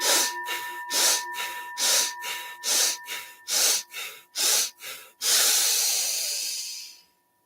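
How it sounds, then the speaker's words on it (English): Slow, controlled breaths during pranayama box breathing: a steady series of even, airy inhales and exhales in a regular rhythm, close and clear, ending in one long sustained exhale. "come back to your box breathing, that natural cycle and harmony of even inhales, holding, exhales,"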